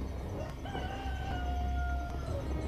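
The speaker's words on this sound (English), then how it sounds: "Immediately, a rooster crowed." A rooster crows once with a long, rising and falling call over a steady low background rumble, clear and moderately close.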